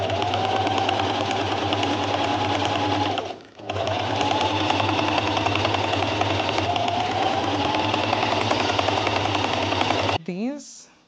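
Sewing machine top stitching fabric for a child's dress, running in a loud, fast, steady mechanical whir that pauses briefly once before a final stop.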